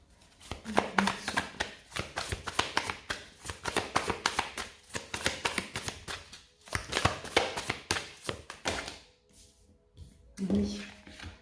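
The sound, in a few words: tarot cards being handled and drawn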